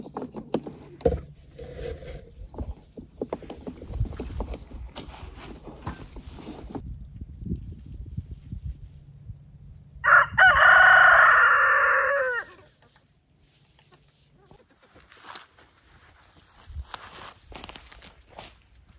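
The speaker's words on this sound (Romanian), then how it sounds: "am să vă las cu găinuțele." Chickens cluck and scratch nearby with footsteps shuffling through the yard, and a rooster lets out one loud, clear crow partway through before the scattered clucking resumes.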